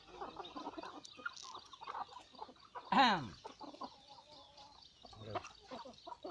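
Burmese fighting chickens cluck and chatter softly at close range, with one louder squawk in the middle and intermittent murmuring calls around it.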